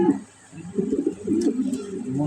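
Pigeons coo in low, rolling bursts that repeat steadily through the stretch, fairly close, with a short lull near the start.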